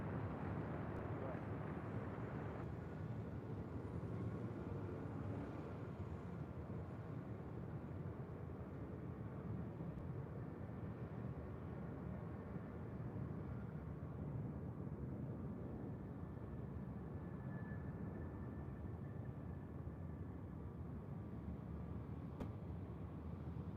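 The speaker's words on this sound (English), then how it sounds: "this Delta A321neo now rolling down at 24 left" Delta Airbus A321neo rolling for takeoff on runway 24 left at LAX, a steady broad roar of jet engines and rumble that holds for the whole stretch, with faint radio chatter underneath.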